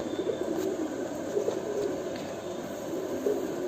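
Nokha pigeons cooing in a loft, soft repeated low coos over a faint background hum, with no talk.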